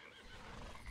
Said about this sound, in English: Mount your horse, Arthur.